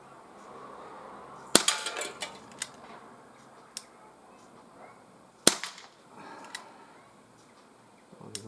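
Two sharp, loud shots from a CP88 air pistol fired outdoors, about four seconds apart, each followed by faint metallic pings and ticks of pellets hitting targets, no talk.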